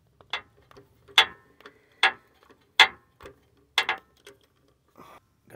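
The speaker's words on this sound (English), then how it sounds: "Just go straight from ratchet to the socket on this one" Ratchet with a half-inch socket and no extension loosening a starter bolt on a 2015 Ford F-350, giving six or seven sharp, close clicking bursts in an uneven rhythm with short pauses between them.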